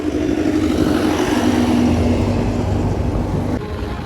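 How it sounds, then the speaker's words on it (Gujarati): A bus coming along a village road near Bayad, Gujarat, heard as a loud, steady, close engine drone with road rumble that eases slightly near the end. "બસ આવે છે"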